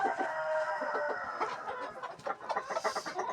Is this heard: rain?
no